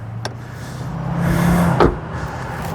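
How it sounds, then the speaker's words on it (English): A 2024 Subaru Impreza car door swinging shut with a single solid, muted thud near the end, close by, over a low steady hum. "Solid sounding doors when you close them."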